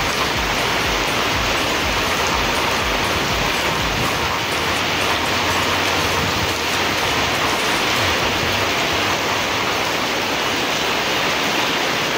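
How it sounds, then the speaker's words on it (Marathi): Steady, dense rain pours down outdoors as a loud, continuous hiss with no pauses, close and enveloping throughout. "पाऊस चालू झाला इथेच आम्हाला"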